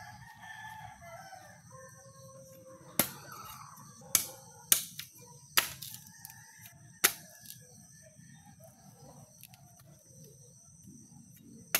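Chickens and a rooster in a rural Philippine yard, faint distant calls over low background noise, broken by several loud sharp knocks or snaps close by.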